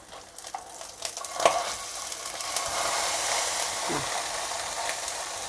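A salmon fillet, just flipped, pan-fries over high heat with a steady crackling sizzle, broken by a few sharp clinks and a soft scrape near the start.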